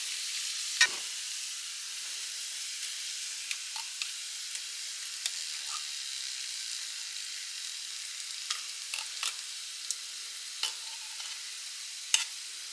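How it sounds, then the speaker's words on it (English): Canned chili beans being stirred into a pan for a Mexican lasagna, giving a faint, low hiss with sparse soft scrapes and clicks from the spoon. "Next, you want to add your beans in. We're using chili beans."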